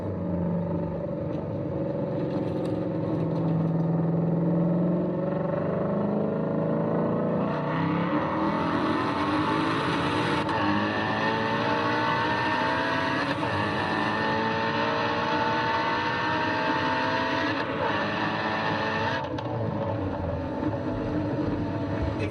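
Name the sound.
supercharged Mustang GT350 engine revving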